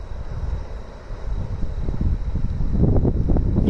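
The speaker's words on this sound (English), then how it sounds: "a big gust of wind comes now, it's going to throw the embers up across the road and into the forest beside me" A strong gust of wind blows through during the White Rock wildfire in Paxton Valley, a low rumbling roar buffeting the microphone and building steadily louder toward the end.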